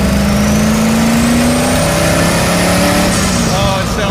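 A turbocharged Rotsun car engine roars loudly on a chassis dyno, revving up with rising pitch and holding at high revs before easing slightly, close and dominant throughout.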